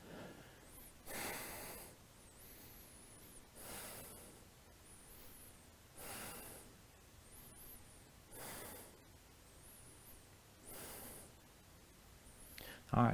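During a vinyasa flow yoga pose, slow audible breaths repeat roughly every two and a half seconds, soft airy inhales and exhales close to the mic in a quiet room.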